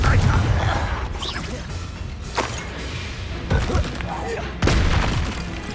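Confringo fire-blast spells explode one after another in Hogwarts Legacy, loud booming bursts with crackling debris over steady game noise, a voice shouting spell names between them.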